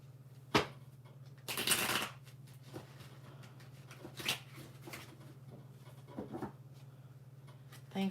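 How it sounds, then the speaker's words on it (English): A tarot deck is shuffled near and quietly, in a few short riffling bursts with light card scrapes and pauses between them over a faint steady hum. "We're going to shuffle these real good and see what comes up."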